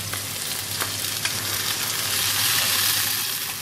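Noodles hit a hot pan for a stir-fry, setting off a loud continuous sizzle that swells stronger partway through, with faint scraping strokes of stirring underneath.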